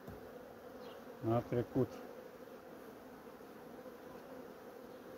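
Honeybees buzz at a hive weakened by varroa mites, a soft constant hum with a few short louder buzzing bursts passing close by near the middle, and a brief word spoken in Romanian.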